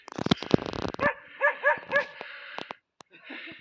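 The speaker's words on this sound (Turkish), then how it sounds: "Hadi havla." A dog near a canyon outing in Konya gives a few short yips and whimpering barks, close and fairly loud, with a quiet pause between bursts and a voice coaxing it at the start.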